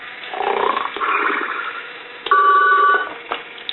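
A toy Goofy telephone with caller ID rings in a thin, muffled tone, as if heard down a phone line, with one bright warbling burst standing out near the end.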